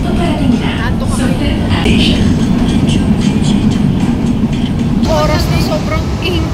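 Inside a very crowded train, a loud, constant low rumble of the moving carriage fills the scene, with murmuring passengers and scattered voices throughout.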